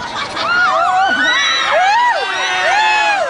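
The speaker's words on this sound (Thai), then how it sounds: "แหมเขาสั่นมือนิดเดียวกรี๊ดซะแล้ว" Children scream and shriek amid a cheering crowd, loud overlapping high-pitched voices rising and falling continuously with excited shouts throughout.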